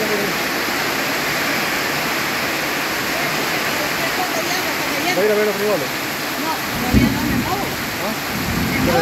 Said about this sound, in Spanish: Cómo cae la agüita